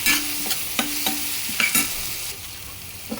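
Garam masala and chaat masala fry in a pan for masala puri, a close sizzling hiss punctuated by several sharp spoon scrapes and taps, which fade to a softer sizzle toward the end.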